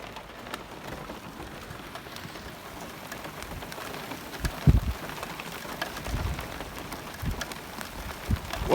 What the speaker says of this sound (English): And yeah, it looks like we got some rain and hail started up.